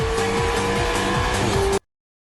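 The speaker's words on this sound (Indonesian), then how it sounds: "Ferrari terus melaju dan naik ke peringkat 6" A Ferrari race car in an anime race roars past at speed, its engine screaming with rising tones through quick gear changes before the sound cuts off abruptly.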